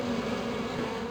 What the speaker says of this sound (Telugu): తేనెటీగలు అటువైపు వెళ్తున్నాయి.